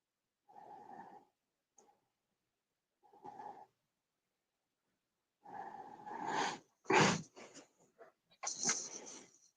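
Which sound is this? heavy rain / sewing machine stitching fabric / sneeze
sneeze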